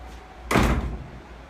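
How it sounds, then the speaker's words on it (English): An apartment door in an old New York tenement swings shut with a single solid thud, close by, with a short fading rumble after the impact. "If we close this door"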